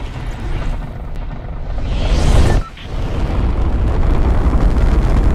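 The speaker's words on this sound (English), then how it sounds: "There goes the missile! There goes the missile right there!" A missile launch in the Fortnite battle royale game: a loud, sustained roaring rumble that swells to a blast around the midpoint, cuts briefly, then resumes as a dense, continuous roar to the end.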